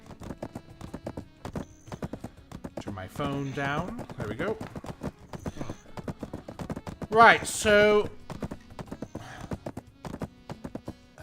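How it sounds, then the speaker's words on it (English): Horse hooves clip-clop in a steady, even rhythm while a horse is ridden in the Black Desert video game, with occasional neighs and whinnies breaking through. Someone talks casually over the hoofbeats. "So anyway, I got a horse."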